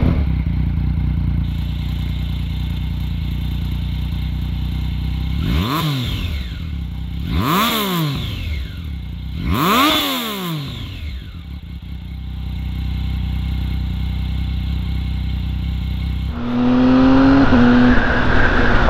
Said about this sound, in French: cette sonorité dans les tours, j'ai l'impression d'être avec une bagnole de course